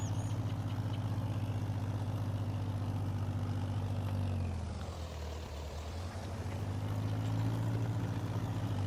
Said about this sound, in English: We should be able to spin right round with this tractor.